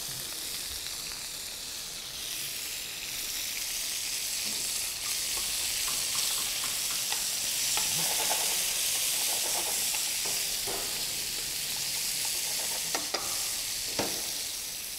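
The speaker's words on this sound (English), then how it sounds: "We're just gonna sear the pork and get it pretty much nice and caramelized." Pork searing in a hot pan gives a steady, hissing sizzle that swells slightly, with intermittent stirring scrapes and spits, close and fairly quiet, no voices over it.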